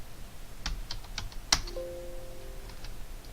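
Several quick computer keyboard keystrokes in an irregular burst, one sharper key press standing out, followed by a faint steady electronic tone, quiet and close with no talking.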